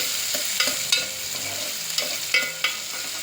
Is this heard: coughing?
no